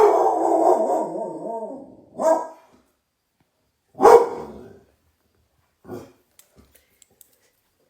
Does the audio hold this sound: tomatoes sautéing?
no